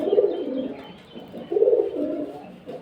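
Male pigeon cooing in two clear bursts, low and throaty, close by, with a brief pause between them and quieter cooing trailing after.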